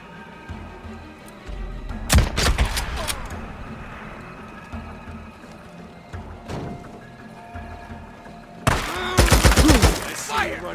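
Gunfire in the post-apocalyptic game Days Gone, two sharp bursts of rapid automatic shots, one early and one late, separated by quieter ambient stretches with occasional single cracks.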